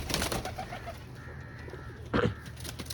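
A flock of pigeons, about thirty-one birds, coos and murmurs at close range, with a short burst of wing flapping or rustling near the end over low background noise.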